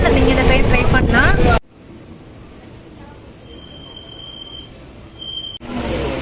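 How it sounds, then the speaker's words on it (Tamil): A passenger train near Sembampatti station at night makes a loud rolling roar that suddenly drops to a quieter hum with a thin high squeal, then swells loud again. "நம்ம ட்ரெயின் பார்த்தீங்கன்னா இப்போ செம்பாதம்பட்டி ஸ்டேஷன்கிட்ட இருக்குங்க."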